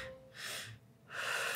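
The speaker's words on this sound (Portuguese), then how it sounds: "Você puxa o ar duas vezes e solta uma." Calming breathing technique with two quick inhales followed by one longer exhale, close and breathy, heard alone without talk.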